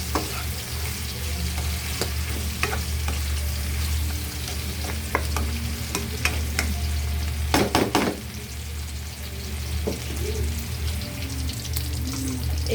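Bitter gourd (ampalaya) fries in a pan as it is stirred, giving a steady close sizzle with scraping clicks from the utensil throughout.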